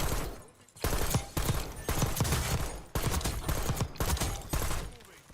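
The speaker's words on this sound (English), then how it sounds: "At least it was burst fire." Several bursts of gunfire from a burst-fire weapon in a video game, each volley sharp and loud with short pauses between, repeating about five times.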